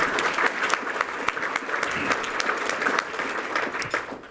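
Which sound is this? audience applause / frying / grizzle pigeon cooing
audience applause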